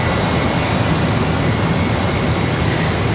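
A jet aircraft departing Charlotte Douglas airport gives a steady, dense, loud roar of engine noise with no breaks across the short span.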